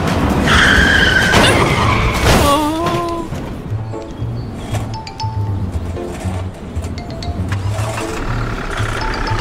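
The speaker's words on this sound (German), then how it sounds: "Deine Reifen qualmen!" A cartoon tow truck's tires skid and smoke with a loud screech at the start, followed by a lower rumbling engine and tire noise that pulses rhythmically and fades a little toward the end.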